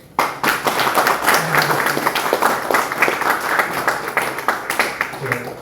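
A room full of people applauding at a church ordination ceremony, dense steady clapping that starts abruptly and continues throughout at moderate loudness.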